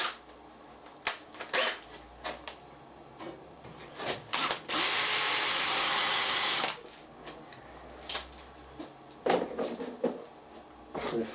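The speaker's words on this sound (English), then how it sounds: "I'm going to use a 6mm clearance drill just to spot the centre of the hole." A power drill with a 6mm clearance bit whines through metal on a traction engine model's barbecue repair, in short bursts with one sustained run of several seconds in the middle, close and fairly loud.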